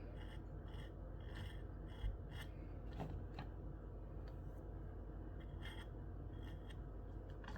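A knife edge is polished on a KME sharpener with a sweeping motion, giving soft, quiet, repeated scraping strokes at an uneven rhythm over a low background hum, with no talk.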